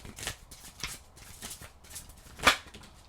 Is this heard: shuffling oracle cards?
yes